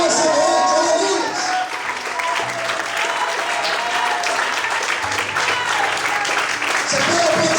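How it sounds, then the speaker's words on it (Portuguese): Church congregation applauding during an evening service, steady sustained clapping filling the room for several seconds with voices and shouts mixed in. "Quem quer, levanta a mão, glorifica e aplauda o Senhor essa noite."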